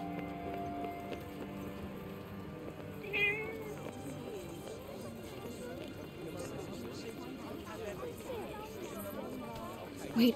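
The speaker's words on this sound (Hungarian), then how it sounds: "Ó, itt egy cica." A cat meows in the video game Forspoken, one short mewing call partway through, set against steady game music and ambient sound, with a player talking over it.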